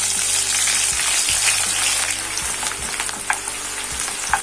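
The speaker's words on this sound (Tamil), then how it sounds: "ஆயில் ஹீட் ஆகிடுச்சு, ஃப்ரை பண்ணி எடுத்துக்கலாம்." A large cut onion fries in hot oil for fish biryani, producing a loud, continuous crackling sizzle close up, with a few light stirring taps and no voices.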